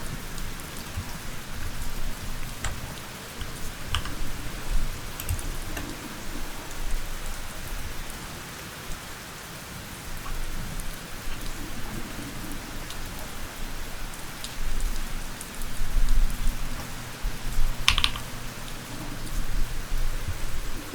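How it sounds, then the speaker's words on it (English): Steady rain falls on surfaces outside an old family house, with a dense, even hiss and scattered drop patter that holds for a long stretch. A faint distant rumble may sit underneath. "The rain sound is making you wanna check if the gutters are holding up."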